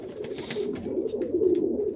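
Ripping roller pigeons coo in a low, steady murmur, a soft continuous warble close by with no talk over it.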